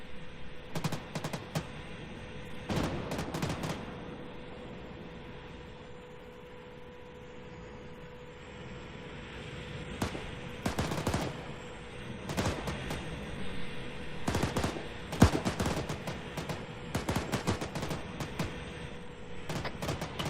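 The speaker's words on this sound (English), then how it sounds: "A tank is returning fire on you, Juve." Gunfire in the military video game Arma 3: repeated bursts of sharp automatic shots, fairly close, in clusters separated by pauses, over a steady background hiss.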